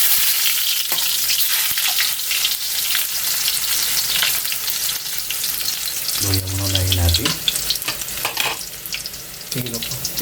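Ginger sizzles loudly in hot oil, a dense continuous frying hiss with occasional stirring clatter close by, while the cook prepares adobong pusit.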